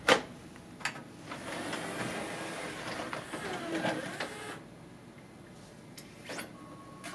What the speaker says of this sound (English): So it just spits the disc right back out.